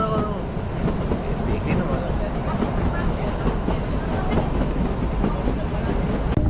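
Kalka–Shimla toy train running on the mountain railway: a continuous loud rumble of wheels and carriages with rhythmic clickety-clack over the rails, recorded from on board with people talking at times in the background.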